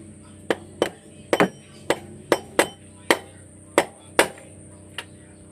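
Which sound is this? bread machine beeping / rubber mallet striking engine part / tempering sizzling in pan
rubber mallet striking engine part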